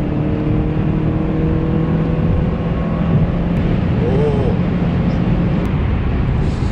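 A Renault Samsung SM6 accelerates, its engine note rising steadily from inside the cabin as a continuous moderate drone with road noise beneath, with no talking.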